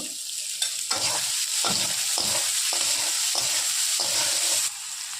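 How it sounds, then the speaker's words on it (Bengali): Steady hiss of chopped onion, chilli and ginger sizzling in hot oil, broken by regular scraping stirs about every half second, close and loud with no voices. "পেঁয়াজটাও দিয়ে দিচ্ছি আর মরিচ কুচানো আর আদা কুচানোটাও একসঙ্গে দিয়ে দিলাম, দিয়ে একটু ভেজে নেব।"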